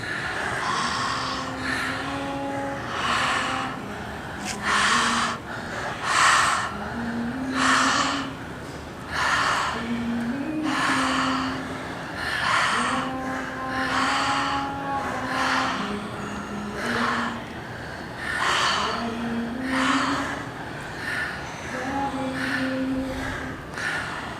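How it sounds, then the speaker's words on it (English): Deep, rhythmic breathing during a Kundalini yoga kriya, long forceful inhales and exhales repeating steadily every couple of seconds, close and breathy with no talk. "Breathe very deeply. Open up your lungs."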